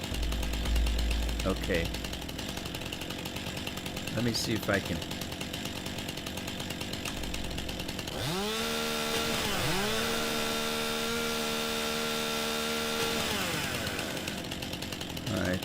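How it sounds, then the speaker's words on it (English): A chainsaw in the Farming Simulator 19 video game, on the Lincoln Creek map with Seasons, starts partway through with a buzzing engine whine that revs up and down twice and then holds steady. Someone talks over it. "Do I have a chainsaw? I do have a chainsaw."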